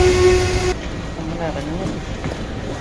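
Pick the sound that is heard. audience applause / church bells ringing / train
train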